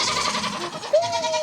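Lambs bleat inside a barn on a frigid farm morning, with a few wavering cries close by that overlap one another under steady background noise.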